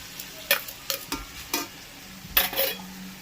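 Mixed winter vegetable fried rice with shrimp is stirred in a pan, a handful of sharp scraping strokes over a light sizzle, close and uneven in rhythm, with no speech.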